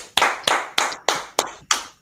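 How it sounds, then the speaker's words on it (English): Slow, evenly spaced claps, six in about two seconds, each sharp and close with a short ringing decay, sounding more like one or a few people than a full crowd, with no talk. "Clap it up."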